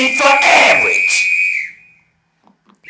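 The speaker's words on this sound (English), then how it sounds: "Whistle." A single loud, shrill whistle blast holds steady for about two seconds, then cuts off into near silence with faint stirrings.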